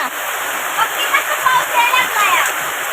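Heavy monsoon rain pours down in a village, a dense, steady rushing hiss with small splashes throughout, with faint voices in the background.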